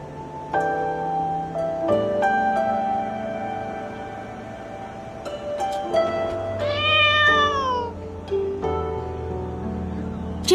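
A kitten in the video game Moonlight Blade gives a drawn-out meow near the middle and a few fainter mews, heard over sustained background music with no one talking.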